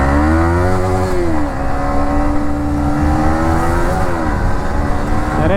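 A 2024 Yamaha MT-15 motorcycle accelerates to high speed, its engine droning close and loud with rising and falling pitch as it shifts through gears, under heavy wind rush.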